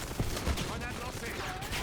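Rapid gunfire and a couple of low grenade blasts from the Black Ops 6 video game crackle in a dense, continuous barrage, with a voice faintly mixed in.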